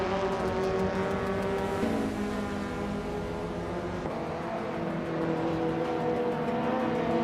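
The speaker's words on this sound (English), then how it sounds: "Tugonit DTV is driving a 2016 Hyundai Elantra" A 2016 Hyundai Elantra in a racing video game hums at a steady engine pitch that shifts slightly as it holds speed, the drone continuous and close, with no voices.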